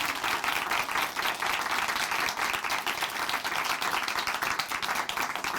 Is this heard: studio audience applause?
yes